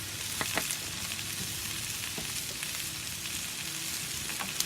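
Jalapeno smoked sausage and onions fry in a hot pan at a tailgate, a continuous crackling sizzle with occasional small pops and utensil taps, no voices.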